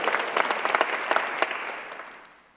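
A church congregation applauds during a Sunday worship service, a dense wash of many hands clapping that fades away toward the end, with no voices over it.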